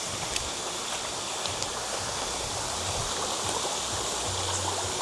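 Continuous rushing flow of a stream behind a camping area at Ertop Bantaeng, South Sulawesi, a steady close wash of water with no talking.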